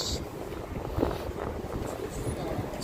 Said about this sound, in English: It's getting a little windy all of a sudden.